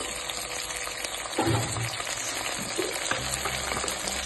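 Tomatoes frying in a pan with onions and spices for Andhra gongura pappu, a continuous close sizzle with stirring scrapes and a louder burst as they hit the oil, no voices.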